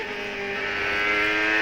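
Onboard engine of Dario Franchitti's CART race car during qualifying at Road America, a steady high-pitched drone that climbs slightly in pitch as the car accelerates, loud and close with no voices.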